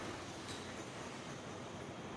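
A new air-conditioned passenger train on the Chiang Mai to Bangkok trial run stands at Lampang railway station, giving a steady, fairly faint rail rumble with hiss that holds evenly throughout, with no voices.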